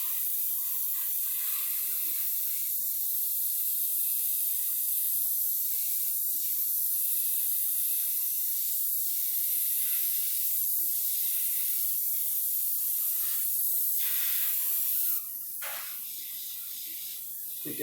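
An airbrush hisses steadily as it lays down a third coat of paint, a continuous close spray that runs almost without a break and drops slightly in level only near the end.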